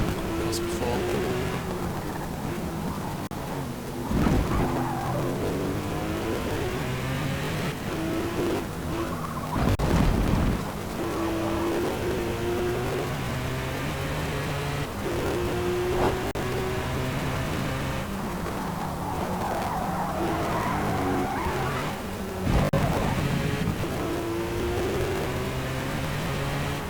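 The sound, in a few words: Porsche 911 GT3 RS car driving in video game Forza Motorsport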